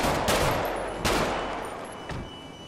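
Gunfire from a police raid on a favela in a crime-themed video game, rendered as dense bursts of shots with several sharp loud cracks that repeat over a continuous roar of noise.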